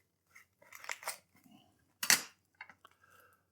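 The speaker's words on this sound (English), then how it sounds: "First step, the onion. Cut it in half lengthwise." A knife cuts an onion in half lengthwise with the skin left on, producing a few short crisp crunches and taps up close, with one sharper slicing burst in the middle and quiet gaps between.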